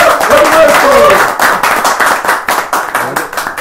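A small group of people clapping in a studio on a Korean golf show, a loud, close patter of hand claps that thins out into scattered claps, with talking over the start.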